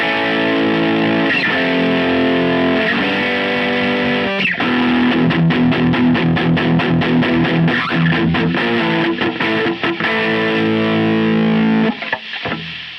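An electric guitar plays through a high-gain rock preset in Positive Grid Bias FX 2 Pro, loud distorted chords and riffs with palm-muted chugs, ringing out steadily before stopping abruptly near the end.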